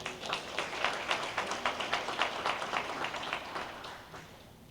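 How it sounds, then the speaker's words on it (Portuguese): Church congregation at a family service clapping in a steady, fairly quiet rhythm for several seconds, with no voices standing out. "Aplauda o Senhor por isso, irmão"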